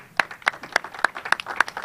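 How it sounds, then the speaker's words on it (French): Applause from a small group at a press conference, with sharp irregular claps rising and falling in a brief burst, no voices. "Sous vos applaudissements,"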